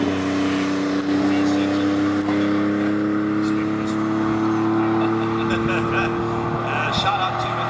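A 1969 Porsche 911 Turbo race car at the Simola Hillclimb holds a steady loud engine drone with strong harmonic tones, close by and sustained, as a voice talks over it.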